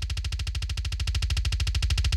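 A processed one-shot kick drum sample plays as a rapid, evenly spaced stream of punchy hits, loud and uniform, with no other sound.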